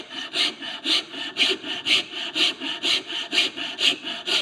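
A rasp hollows out wood while a chair devil is being made, rhythmic, close scraping strokes at roughly two per second, steady and alone.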